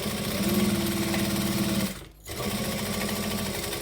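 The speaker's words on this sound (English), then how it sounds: "So I'm going to stitch, back stitch, and then off I go." A sewing machine runs in a steady, loud, close mechanical whir while stitching fabric, stops abruptly for a moment as it switches to back stitching, then resumes the same rapid hum.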